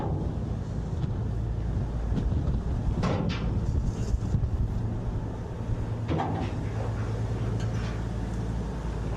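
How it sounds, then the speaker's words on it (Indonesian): Strong wind and rough seas on the Java Sea during drizzle after heavy rain, heard aboard a ship towing a barge: a steady loud rush of wind buffeting the microphone with low rumbling wave noise and occasional knocks. "Makanya ombaknya semakin besar ini. Angin juga semakin kencang bertiup."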